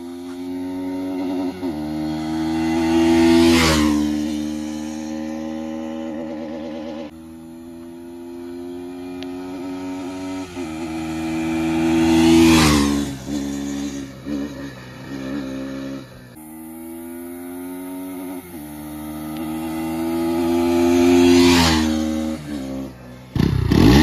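A new Bajaj Pulsar NS200 motorcycle revs up close on a test ride, its engine note climbing and falling in three long, loud swells with no talk over it.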